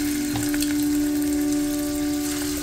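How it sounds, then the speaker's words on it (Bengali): Prawns frying in mustard oil in a nonstick pan on a gas stove, a steady close sizzle with a constant hum running underneath, no voices. "আমি এখানে সরষের তেল দিয়ে দিচ্ছি। এবার মাছগুলোকে আমি ভেজে নেব।"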